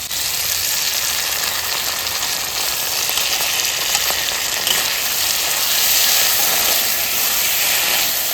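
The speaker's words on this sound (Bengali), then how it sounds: "এবার আমি এই যে বেটে রাখা মশলাটা দিয়ে দেবো" A ground spice paste goes into potatoes, tomato and onion frying in a pan, making a loud, dense, continuous sizzle and hiss that swells slightly toward the end, with no voices.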